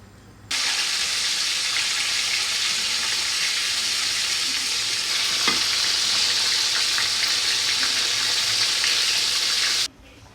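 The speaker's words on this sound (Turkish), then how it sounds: "Bir taraftan da yağda kızartmaları yapacağım." Hot oil sizzles loudly and steadily for several seconds after starting abruptly, then cuts off sharply, with a faint clink partway through, as manti dumplings fry.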